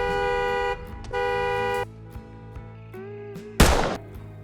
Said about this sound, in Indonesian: Mendengar suara klakson mobil dan suara tembakan